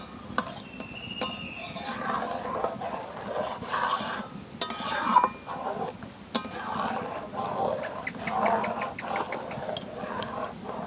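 A watermelon laddu mixture with powdered milk is stirred by hand in a village kitchen, giving steady scraping and rubbing strokes at close range with small clicks, under a faint background hum.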